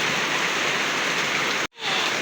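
Steady rush of rainwater dripping from a roof onto wood and streaming into a house during heavy rain, a continuous close hiss that briefly cuts out near the end before resuming.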